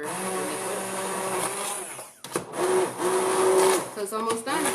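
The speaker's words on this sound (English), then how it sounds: "It's also known as an immersion blender." An immersion blender purees carrot soup with a whirring motor drone that briefly cuts out, then resumes with shifting pitch and churning as the blade works through the liquid.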